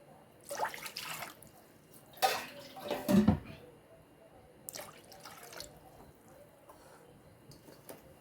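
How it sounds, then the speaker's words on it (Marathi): Two to three glasses of water poured into a wok on a gas stove for steaming aluvadi, several short splashing pours with quiet gaps between them, close and fairly soft. "त्याच्यामध्ये आपण 2 ते 3 ग्लास पाणी घालून घेऊयात"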